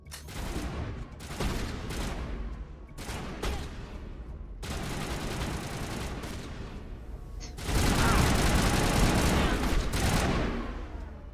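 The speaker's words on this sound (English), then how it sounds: "The bartender shooting at me." A bartender fires on the player in Mass Effect: loud bursts of gunfire come in several separate volleys with short pauses between them, and the last burst is the longest and densest.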